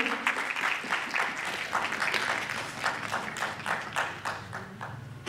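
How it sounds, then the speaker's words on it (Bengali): An audience at a ceremony claps in a moderate, uneven round of applause, individual hand claps audible as rhythmic bursts over a soft crowd background. "সকলে একটু করতালি দেবেন।"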